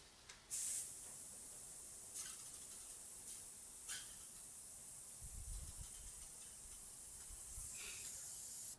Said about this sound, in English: there's definitely something just in the airbrush that shouldn't be in the airbrush